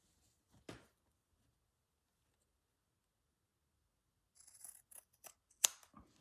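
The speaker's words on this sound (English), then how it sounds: "Just going to trim this little bit off." Scissors snipping off a small piece of fabric while slow-stitching a pouch, a few quiet crisp cuts clustered near the end after a single faint snip and a long silence.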